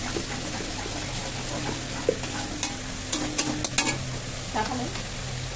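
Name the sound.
spice paste with chili powder being stir-fried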